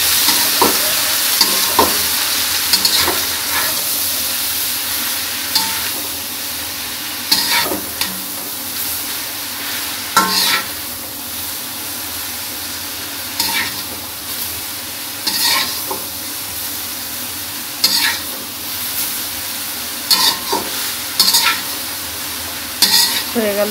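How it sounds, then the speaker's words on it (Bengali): Leafy greens frying in a pan with a black cumin tempering, a loud, close sizzle punctuated by repeated scraping and clanking as a utensil stirs at irregular intervals, with no voices. "হয়ে গেল শাক ভাজা"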